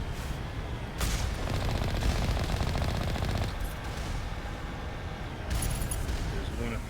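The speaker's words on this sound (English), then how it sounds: "Who else is shooting at me?" Bursts of automatic gunfire fill a firefight in the video game Mass Effect, loud sustained rattling volleys separated by short pauses, with a sharp impact at the start.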